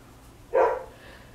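A single short dog bark rings out once, fairly close, against a quiet background.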